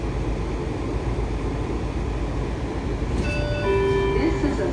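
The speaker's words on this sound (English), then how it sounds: "This is a 7000 series train." A Washington Metro 7000 series Red Line train rumbles steadily from inside the car, a loud continuous low roar, with faint tonal squeals and chimes rising near the end.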